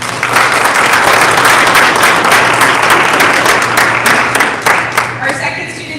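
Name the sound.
round of applause at a school board meeting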